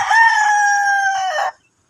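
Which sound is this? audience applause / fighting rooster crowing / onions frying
fighting rooster crowing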